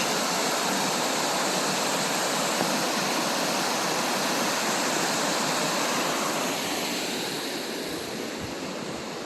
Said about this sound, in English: just a few little rapids there